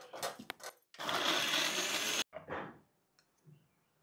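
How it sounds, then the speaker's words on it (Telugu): Mixer grinder whirring through a batch of coriander seeds, cumin, cashews and poppy seeds, a couple of short pulses followed by a longer loud burst, then another brief run that dies away. "మిక్సీ పడేద్దాం."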